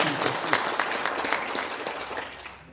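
Audience applause for a guest introduced at a resolution rally in a National Assembly members' hall conference room, a steady dense clapping that fades out near the end.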